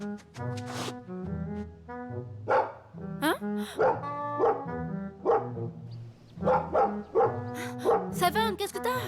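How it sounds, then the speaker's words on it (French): A dog named Seven barking repeatedly in a seaside bay setting, sharp loud woofs and yips in irregular bursts, with whimpery tones between and people talking over it. "T'inquiète pas, laisse-le aboyer."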